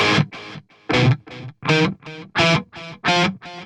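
Short plucked electric guitar phrases through tape delay, left channel, each note clearly separated by gaps, with a slight echoing repeat and a warm, lightly driven tone.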